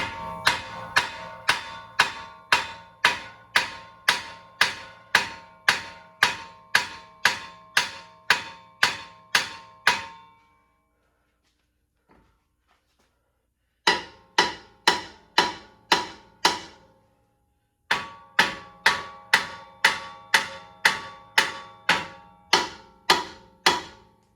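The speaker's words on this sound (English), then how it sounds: "Let's go ahead and hammer right here on the ball joint by the steering knuckle" Repeated hammer strikes on a ball joint at the steering knuckle of a 2010 GMC Acadia during lower control arm replacement, loud sharp metallic blows in steady rapid bursts separated by short pauses.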